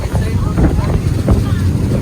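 A loud, steady low rumble of a ferry's engine under way off the Amalfi Coast near Naples, mixed with rushing wind buffeting the microphone.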